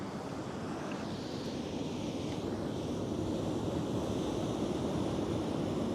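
Ocean waves breaking over rocks and tide pools on a rocky seashore, a steady broadband wash of surf with constant roar and some wind noise, no voices.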